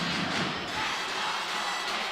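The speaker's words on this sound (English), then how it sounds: "The crowd is roaring." A basketball crowd roars at a college game in a tied Santiago Classico, a dense, sustained wall of cheering and hubbub that stays loud and even from start to finish with no distinct voices standing out.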